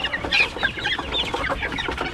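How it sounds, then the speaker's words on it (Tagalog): Several farm chickens cluck close by in a dense, overlapping chorus of short, busy calls. "At dito sa kabila, mga manok."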